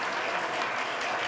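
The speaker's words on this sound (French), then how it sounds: "On l'applaudit toujours, voilà." Brief applause from a music show audience, a fairly soft but continuous wash of clapping with no voices, lasting just over a second.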